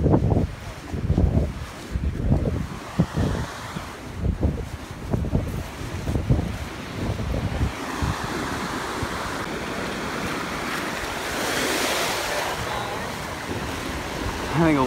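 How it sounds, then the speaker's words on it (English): Ocean waves breaking on a beach, rolling surges arriving one after another, with heavy wind buffeting the microphone and a steady wash of surf taking over toward the end. "Let's go record the ocean water."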